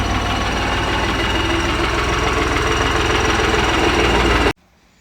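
A 5630 tractor drives in through a gate at a house, its engine running close and loud with a steady low throbbing knock, then cutting off abruptly near the end.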